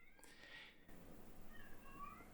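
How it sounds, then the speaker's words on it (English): A pet cat named Babs lets out a loud, drawn-out meow, then a second softer, wavering cry follows moments later in a quiet room. "I'm sure the mic is picking up how loud Babs is meowing right now"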